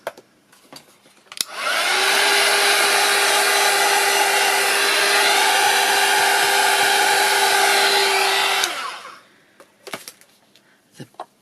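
A hair dryer blows air close by to dry paint on a journal page, running loud and steady for about seven seconds before switching off. Faint clicks and handling sounds come before and after.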